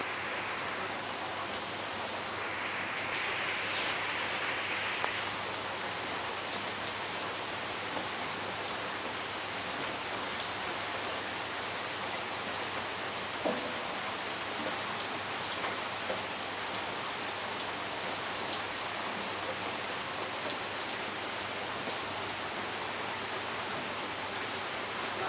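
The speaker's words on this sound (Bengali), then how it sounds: "বন্ধুরা দেখেন প্রচন্ড বৃষ্টি হইতাছে" Steady, dense rainfall pours down continuously, a broad hiss with occasional louder drops and a brief brighter splash early on.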